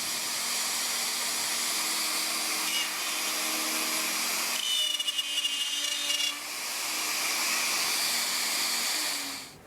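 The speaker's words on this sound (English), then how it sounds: "I'm going to make a test cut in a piece of plywood to make sure that my diameter is where I want it to be" A power tool cutting a test circle in a piece of plywood while building a tenor guitar, a loud steady whine and rushing hum that runs unbroken for nearly ten seconds, shifting tone midway with a brief rattling chatter.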